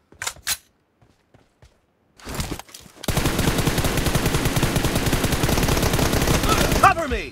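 A few scattered faint shots and clicks give way to a sustained, rapid burst of M416 assault rifle fire in PUBG Mobile, loud and close, rattling steadily for several seconds before cutting off.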